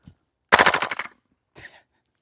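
A Double Eagle DWS Lupus gas blowback airsoft rifle fires one rapid full-auto burst of about ten sharp cracks, then a short mechanical clack follows after a pause.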